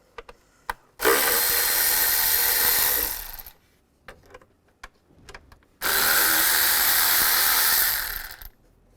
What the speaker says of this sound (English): Using a 6mm hex bit or an Allen bit, you want to take off these screws right here